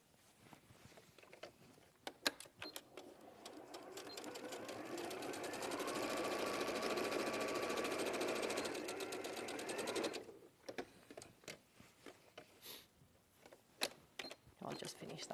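A sewing machine runs a continuous zigzag stitch to finish off a fabric bag, whirring steadily for several seconds close up, with talk and handling noises before and after it.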